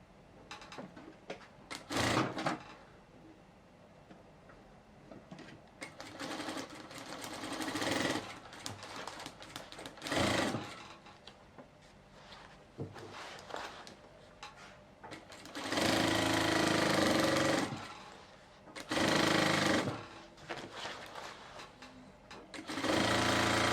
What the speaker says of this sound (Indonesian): Nah, sekarang kita jahit.